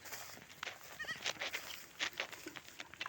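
Goats on a small farm, including a doe with two kids and one sick with diarrhea, bleat in short repeated calls among low background rustling, with no talk.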